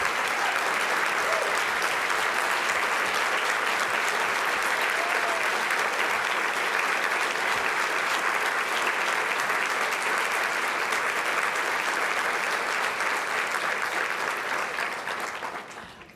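Audience at an award ceremony applauding, a dense sustained roar of clapping from a large crowd that holds steady for many seconds before fading out at the end.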